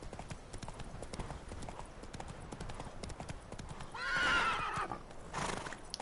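Roach, the horse in The Witcher 3, gallops with rapid, continuous hoofbeats, then lets out a loud, drawn-out neigh near the end, followed by a shorter snort or whinny, all close by.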